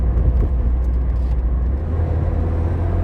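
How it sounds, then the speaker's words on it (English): An Austin Ambassador's Borg Warner 35 three-speed automatic gearbox shifting down into second while driving, heard as a continuous low engine rumble whose pitch steps down partway through, with no voices. "So I'll downshift into 2."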